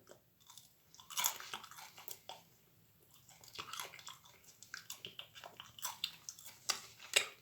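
Close, quiet chewing of marshmallows melted in a microwave, sticky wet squishes and soft smacks repeating unevenly, with no one speaking.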